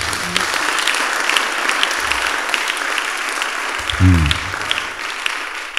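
A church congregation applauds steadily throughout, a dense, continuous wash of clapping with a brief low voice or swell rising near the end.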